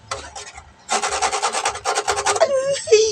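A small hand saw cuts through a stuck, glued screw while a POP SOUND PE15 preamp is being repaired, a few short scrapes and then a quick run of rapid, close, rasping back-and-forth strokes.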